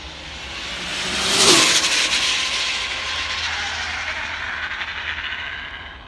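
An RC speedrun car with an 1100kv motor on foam tires at 80% throttle, a loud high-pitched electric whine that swells as it passes close, then holds steady at a distance.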